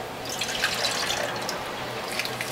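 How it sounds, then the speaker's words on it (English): Tangelo juice pours steadily into a measuring beaker, a continuous close liquid trickle and splash with small drip-like accents throughout, no talking. "Now I'm going to pour this into a measuring beaker."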